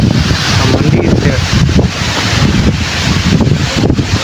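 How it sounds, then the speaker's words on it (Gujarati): Strong wind blows outdoors at a hilltop Mahadev temple, roaring and buffeting steadily at close range with gusty low rumbles throughout. "ખૂબ જ સરસ અહીંયા પવન છે."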